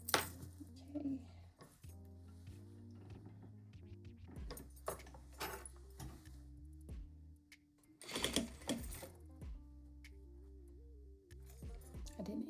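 A sewing machine runs in short bursts while stitching a zippered pouch, with pauses between runs and occasional clicks and clunks as the fabric is shifted, close and fairly quiet.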